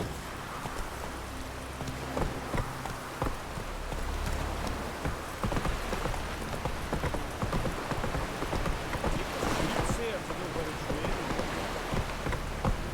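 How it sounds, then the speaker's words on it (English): Steady rain falling in The Witcher 3, mixed with a horse's hooves clip-clopping along, the patter dense and continuous throughout at moderate volume. "Oh, raining again."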